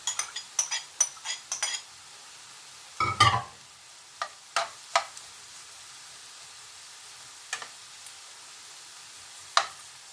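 Chopped onion frying in a little hot oil in a skillet, stirred with scattered scraping clicks and short bursts of sizzle, one louder stir around the middle, otherwise a quiet close crackle.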